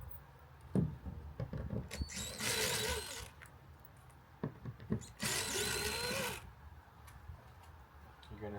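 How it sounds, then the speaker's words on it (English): Power drill driving into the soft outer skin of a camper, in two loud whirring bursts of about a second each, with handling clicks and thumps in between and no talk. "Just go very easy when you use a power drill like this to the soft outer, you know, skin."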